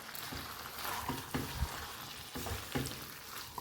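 Potato and pea curry sizzles softly in a pan while spices are stirred in, with scraping spoon strokes at irregular intervals over a steady low frying hiss.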